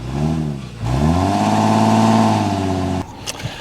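An Infiniti FX37 with 325 horsepower launches hard, its engine revving loudly with rising pitch through a gear, then a brief dip and climb again before cutting off abruptly into quiet road noise, close and alone.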